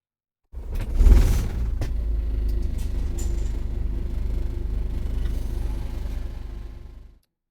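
Stagecoach bus engine starting up and settling into a steady, loud, low diesel rumble that holds evenly until it cuts off; no talking.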